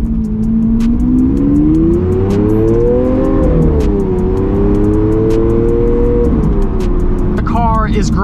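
A Lamborghini Aventador SV supercar's engine drones steadily from inside the cabin while driving, its pitch rising and falling with throttle changes, loud and continuous throughout.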